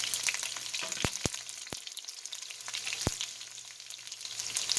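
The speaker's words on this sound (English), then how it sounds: "I left just a little bit of grease in the bottom of the pan, just so we can get the onions and the mushrooms cooked" Onions and mushrooms frying in a pan with a little leftover grease make a constant hissing sizzle, punctuated by a few sharp utensil knocks against the pan, with no talking.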